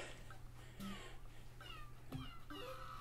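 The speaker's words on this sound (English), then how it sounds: "Oh, it meows, that's really cute." A cat meows a few times, short faint calls over a steady background hum with other in-game or room sounds.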